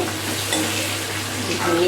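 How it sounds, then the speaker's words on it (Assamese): Spices sizzle in hot oil in a pan during Assamese-style fish curry preparation, a steady close frying hiss with soft scraping as a utensil stirs them. "এতিয়া এইখিনি অলপমান ভাজি লৈছোঁ"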